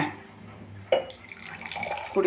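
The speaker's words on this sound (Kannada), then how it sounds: "ಇವಾಗ ಇದನ್ನು ಗ್ಲಾಸಿಗೆ ಹಾಕ್ಬಿಟ್ರೆ" Muskmelon juice, thinned with water, pours into a glass in a steady close liquid trickle with a brief splashy onset, a voice speaking over part of it.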